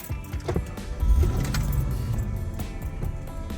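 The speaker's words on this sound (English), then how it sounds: "So while we're waiting for them, I'm just going to start the car." An old £800 project car engine cranking and catching, a close, rough low rumble that swells after a second and settles into a steady idle, with a few clicks and rattles at the start.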